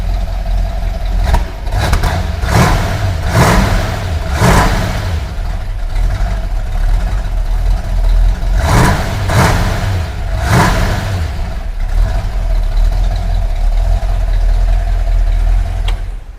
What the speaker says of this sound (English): definitely you could hear the clackety clack of the solid lifters there up front